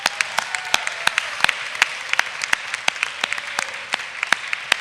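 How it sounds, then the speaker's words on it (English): Audience applause fills a school hall after a senior thesis session, a dense wash of clapping with distinct sharp individual claps standing out, steady and fairly close throughout. "One more round of applause for our three presenters"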